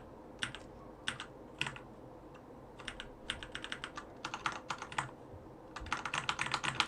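Close keyboard typing at a computer, with irregular bursts of clicking keystrokes separated by short pauses, moderately loud over a low room hum, with no talking.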